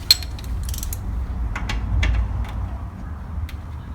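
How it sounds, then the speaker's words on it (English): A small ratchet tightening the bottom arm bolt on a Classic Mini Clubman, giving sparse, close clicks in short bursts against a quiet workshop background. "So let's get a little ratchet in there if we can"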